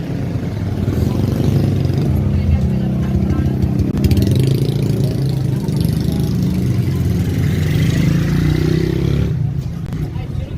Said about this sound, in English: I'm currently sitting in a tricycle.